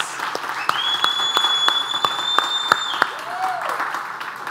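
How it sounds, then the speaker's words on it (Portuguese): A church congregation applauds continuously, moderately loud, with a few sharp claps standing out and a whistle-like tone rising over it. "Vale uma salva de palmas para Jesus?"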